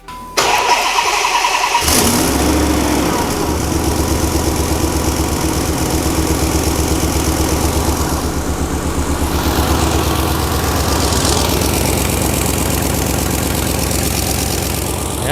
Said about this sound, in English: the engine seems to run okay